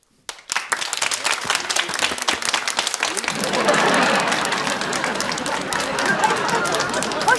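Studio audience on a Turkish game show breaks into enthusiastic applause after a short silence, a dense clapping roar that swells and holds steady throughout.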